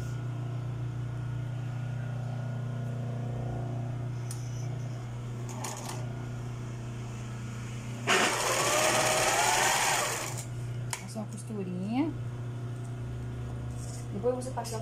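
Sewing machine stitching a lace top, heard close in one loud, steady burst of rapid whirring lasting about two seconds, with quieter handling sounds and a constant low hum around it.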